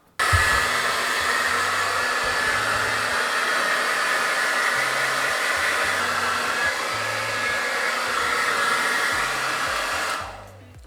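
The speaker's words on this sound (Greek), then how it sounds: "Θα τα στεγνώσω, έχω εδώ το πιστολάκι μου." A handheld hair dryer blows steadily while drying hair, a loud continuous airy roar lasting about ten seconds before it switches off, with no talking over it.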